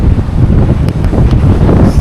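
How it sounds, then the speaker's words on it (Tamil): Gusty seashore wind at Dhanushkodi blasts the microphone for two seconds, a loud, unbroken rumbling roar with no one talking. "செம காத்தடிக்குது, செம காத்துனா"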